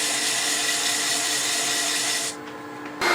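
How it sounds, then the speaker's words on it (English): Sandpaper rubs against a spinning wooden hair stick on a lathe, a steady close hiss and whir of abrasion that drops away abruptly near the end before the motor hum returns. "time to finish sanding the whole thing"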